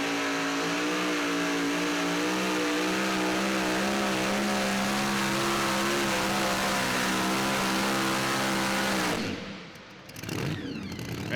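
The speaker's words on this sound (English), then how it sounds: "that truck just looks and sounds awesome" A super modified 2WD pulling truck roars loud and steady down the track at a Pro Pulling League event in Franklin, Kentucky, its engine note wavering under load before cutting off sharply.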